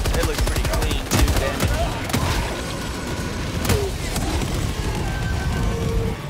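Rapid automatic gunfire in a video game aimed at a Bio Titan, loud sustained bursts with sharp individual shots and booms, while players talk excitedly over the shooting.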